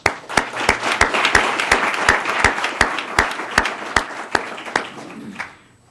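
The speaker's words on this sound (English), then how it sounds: "we'd like to offer up some applause for that support" Audience applause after thanks to a supporting group at a civic club event, with one loud steady clap near the mic marking the beat over dense crowd clapping that fades out at the end.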